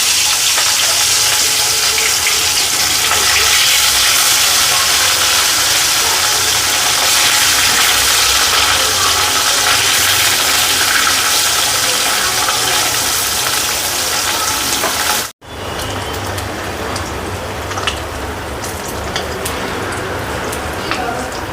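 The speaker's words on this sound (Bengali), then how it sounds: "এবার মাছগুলো একে একে দিয়ে ভেজে নিতে হবে।" Rohu fish frying in hot mustard oil in a kadai, a loud continuous close sizzle with a brief dropout partway through, then frying noise again.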